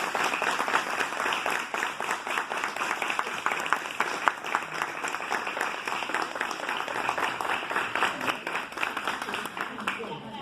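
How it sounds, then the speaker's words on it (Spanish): An audience applauds a teacher with sustained, dense clapping from many hands. The clapping carries evenly throughout, and a few voices can be heard underneath. "Le damos un fuerte aplauso."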